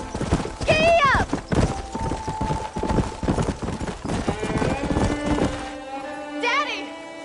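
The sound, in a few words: horse galloping in Red Dead Redemption video game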